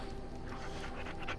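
A dog companion panting in Dragon Age Origins, a steady quick rhythm of soft breaths held up close for a moment, with no talking over it.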